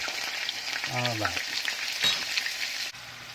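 Burger patties fry in oil in a pan with a loud, continuous hiss, and a brief voice-like tonal sound rises over the sizzle partway through.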